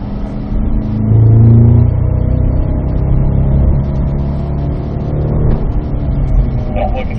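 A Cadillac CT5-V Blackwing engine revs and accelerates nearby on a track, a rumbling roar that swells early, eases, then builds again.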